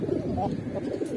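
Bright-eyed Thai line pigeons of big size coo in a low, continuous warble close by through a short stretch, with no talk over them.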